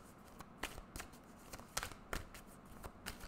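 Tarot cards being shuffled during a love reading, a run of soft papery riffles and flicks in irregular bursts, close and fairly quiet with no talking over them.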